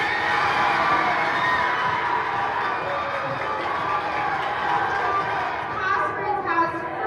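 A crowd at an award announcement cheers and shouts loudly and continuously for the winner, a dense wash of voices and whoops lasting several seconds.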